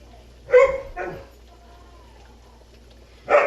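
A dog gives a couple of quick barks, pauses, then barks once more, fairly close in a quiet room.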